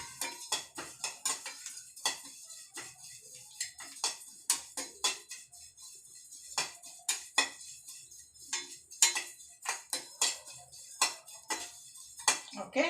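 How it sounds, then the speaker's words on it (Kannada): Cumin seeds dry-roasting in a pan give a scattered run of light crackles, pops and small metallic clinks, some near and crisp, continuing steadily throughout with no talk over them. "ಜೀರಿಗೆ ಚೆನ್ನಾಗಿ ರೋಸ್ಟ್ ಆಗ್ತಾ ಇದೆ."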